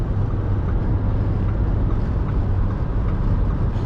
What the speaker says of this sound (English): A lot of wind noise.